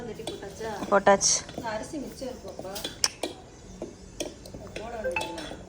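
Food stirred in a cooking pot, with scraping and clinks of a utensil against the metal, mixed with kitchen clatter while someone talks over it.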